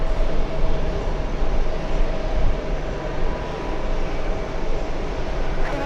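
JetBlue airliner engines powering up at JFK airport, a loud, steady rumbling roar that swells slightly and stays constant throughout, with no voices.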